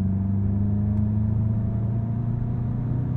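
Steady, close engine drone from a 2023 VW Golf GTI S with a manual gearbox, pulling in fourth gear from low revs, heard from inside the car as a continuous rumbling hum with no talk.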